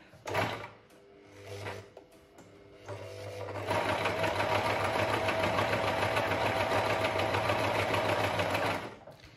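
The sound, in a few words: Privileg Super Automatik sewing machine stitching with twin needle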